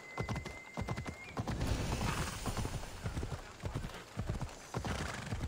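Horse hooves clip-clop steadily as a horse is ridden in the video game Assassin's Creed Odyssey. The hoofbeats are close and loud and run continuously throughout, with no talking.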